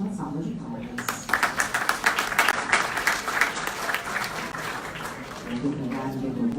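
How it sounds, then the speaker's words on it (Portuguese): Audience applause at a condominium eSocial conference, a dense wash of clapping building from a softer start and holding steady, with a voice speaking faintly underneath. "a quem pedimos uma salva de palmas"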